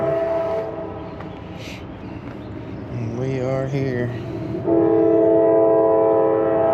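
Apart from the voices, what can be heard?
train passing nearby with horn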